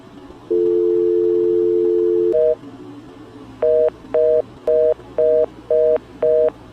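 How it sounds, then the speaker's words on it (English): A telephone line sounds a long steady tone, then a short higher beep, then six evenly spaced loud pulsing beeps of the off-the-hook signal, close and clear. "the off-the-hook signal"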